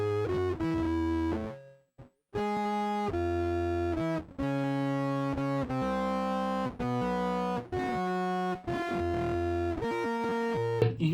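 Electric guitar on the neck pickup runs through an MXR Blue Box octave fuzz pedal, playing a series of fuzzy, glitchy notes that skip around between octaves, loud and close, with a brief drop to near silence around two seconds in.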